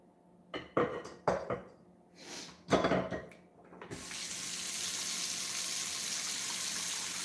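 Tap water pours steadily into a bowl at a kitchen sink for washing dishes, preceded by a few clinks and knocks, then a continuous loud splashing rush.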